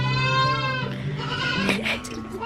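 A goat bleats in long, wavering, nasal cries at close range while being dosed with copper bolus medicine, the calls running almost continuously with no talk.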